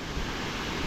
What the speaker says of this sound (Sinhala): වතුර පල්ලෙහාට වැටෙද්දි හුලඟක් හින්දා අර ජල වාෂ්ප වගේ යනවා හැමතැනම වීසිනවා